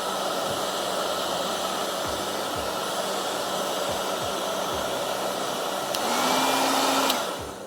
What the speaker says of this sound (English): Let me hit it with a little bit of the hair dryer and see if we can't dry it off a little bit.